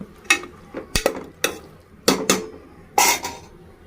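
Onion and green chillies being stirred in a pan, a spatula scraping and knocking against the metal in about seven sharp, close strokes with no talk.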